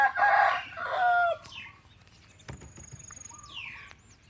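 A rooster crows loudly and close by in a long harmonic call, followed by quieter clucks and faint chirping against a low rumbling background.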